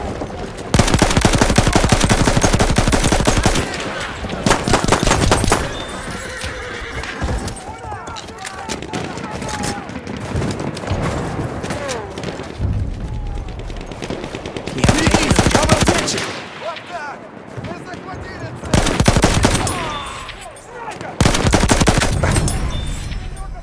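Automatic fire from a Model 8 Extended rifle in a Volga River battle video game, loud bursts repeating in several separate volleys over continuous battlefield noise.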